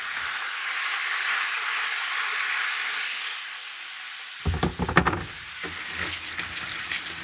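Beef stew meat browning in a pan, a soft steady sizzle and hiss that drops away partway through, followed by clattering bumps and louder spattering close by.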